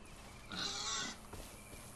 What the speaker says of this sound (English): I'm getting outrun by a pig.